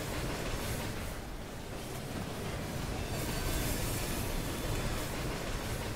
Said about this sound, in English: Can you guys hear the train?